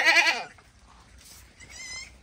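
Goat bleats on a farm in Jhargram, West Bengal: one loud, close, wavering bleat at the start, then a fainter second bleat near the end, with no talking.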